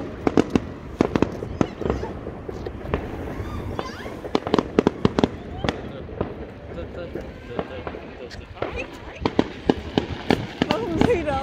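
Fireworks and firecrackers exploding outdoors: dense, irregular volleys of sharp cracks and bangs continuing throughout, some loud and close, with people talking in between.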